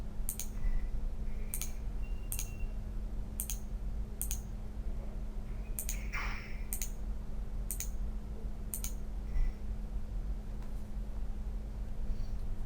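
Several crisp computer mouse clicks tap out at irregular intervals, close and fairly clear, while connections are made in Automation Studio simulation software for an electrical RLC circuit, over a steady low hum.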